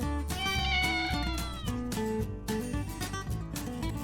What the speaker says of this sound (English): That's right, it was a cat.